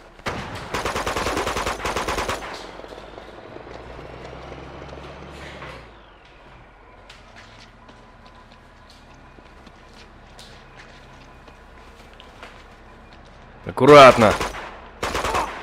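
Tank fire in Uncharted 2, heard as a loud burst of rapid gunfire at the start, then a long quieter stretch of footsteps and movement with a brief spoken word, and a second sharp, heavy blast near the end.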